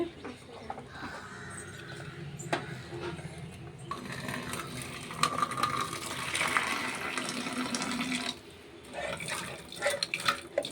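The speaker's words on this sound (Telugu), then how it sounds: "నీళ్ళు పట్టుకో ఇంకొంచెం పట్టు" Water runs from a tap into a vessel at a kitchen sink, a rushing stream swelling louder in the middle and then easing, with voices talking around it.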